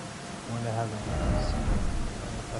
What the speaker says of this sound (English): Well, at least it's raining.